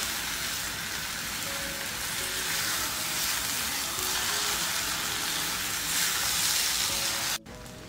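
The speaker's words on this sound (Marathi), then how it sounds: "तांदूळ घालते। परतून घ्यायचं आहे छान।" Rice sizzles steadily in hot oil with lentils in a pan for khichdi, a dense continuous frying hiss that holds even throughout and cuts off abruptly near the end.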